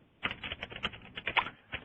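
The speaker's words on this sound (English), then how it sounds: "if someone's typing in the background, you might put the telephone on mute" Quick, irregular keystrokes from a computer keyboard clatter in the background for about two seconds, each tap sharp and fairly faint, with no talking.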